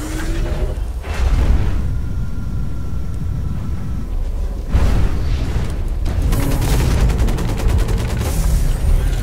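Heavy gunfire in the mech shooter Hawken, team deathmatch on the Bazaar map, with rapid bursts and booming impacts over a constant mechanical rumble, loud and continuous, no speech.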